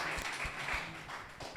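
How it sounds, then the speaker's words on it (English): An audience gives a round of applause for a South African jazz artist, a short burst of moderate clapping with a few sharper individual claps standing out nearby. "And I think that deserves a round of applause."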